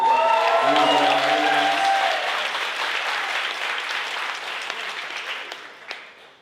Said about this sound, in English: Make some noise for Ray Bamford